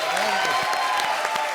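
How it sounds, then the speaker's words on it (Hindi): Audience applause on a comedy show stage, a short burst of dense clapping from a crowd with some voice mixed in. "एक बार जोरदार तालियां"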